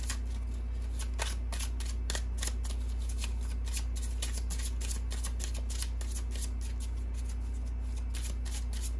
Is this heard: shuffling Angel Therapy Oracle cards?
yes